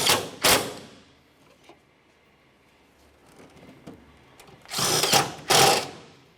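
A power tool tightens the radiator mounting bolts on a 2005-2010 Chevrolet Cobalt. It gives two brief whirring bursts at the start and two louder bursts near the end, with faint clicks and handling sounds in between.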